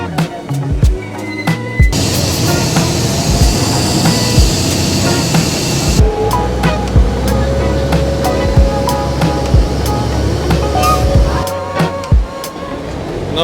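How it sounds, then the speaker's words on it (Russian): Water rushes and splashes in bursts under a rumbling river boat engine in Thailand, with a stretch of hissing spray from strong waves and occasional knocks. "Смотрите, какие сильные волны, какие брызги."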